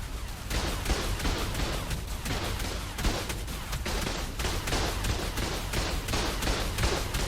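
Automated turret gunfire in ARK: Survival Evolved, a dense, continuous barrage of rapid shots and thuds that stays loud and steady throughout with no pauses.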